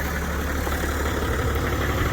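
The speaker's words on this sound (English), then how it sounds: "The engine's running very smooth." A Toyota Land Cruiser engine idling smoothly, a steady continuous mechanical hum and rumble at close range with no speech over it.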